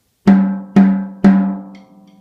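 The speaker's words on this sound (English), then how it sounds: "Next part is going to be your snare drum right here." A single snare drum is struck three times at an even, unhurried pace, each hit sharp and ringing with a decaying tail. The drum is close and loud, with no other sound around it.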